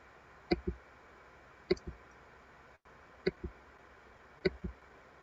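Mouse button clicks while navigating a map tool on a computer, four separate close, crisp click pairs spaced about a second apart, alone in a quiet room with no voices.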